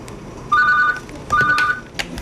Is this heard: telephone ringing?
yes